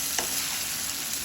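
Adavi muthiya, taro leaf dumplings, crackle and sizzle in hot oil with a steady dense hiss and faint stirring scrapes throughout, no voices.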